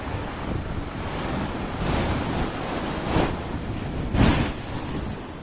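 Sea waves break against the foot of chalk cliffs on the Côte d'Albâtre in a continuous roaring wash, swelling into louder surges every second or so with heavy wind buffeting the microphone.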